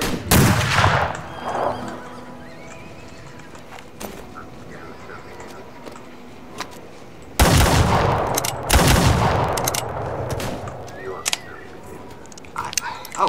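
Loud shotgun blasts in a video game, with a few sharp booming bursts spread out among lighter in-game noises and quieter stretches.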